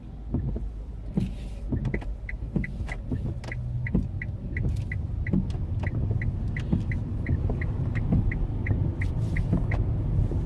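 Electric car setting off on a test drive in Norway, heard as a low steady rumble of road and cabin noise with a faint regular ticking throughout and no speech.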